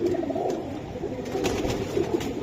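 Pigeons, including an almond-coloured bird on sale, coo softly and repeatedly in a low throaty rhythm, close by, over faint background noise.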